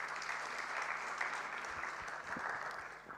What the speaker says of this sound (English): Let's please give her another round of applause